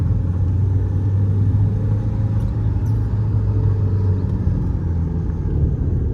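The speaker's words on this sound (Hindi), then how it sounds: "खींच के फेंकती है गाड़ी" Mahindra XUV500 diesel SUV pulling hard in gear below 2000 RPM, a steady deep engine drone and road rumble filling the cabin at constant loudness, with no talk.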